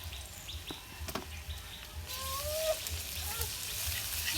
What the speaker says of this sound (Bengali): এবার আমি দিয়ে দিচ্ছি রসুন বাটা।